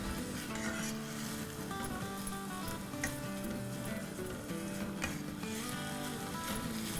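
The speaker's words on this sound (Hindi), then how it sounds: "हमें बस इतना ही फ्राई करना है कि वो एनी मोर पिंक ना रहे" Minced keema frying in a pan over high heat hisses in a steady, dense sizzle with stirring scrapes, heard close up over a faint musical background.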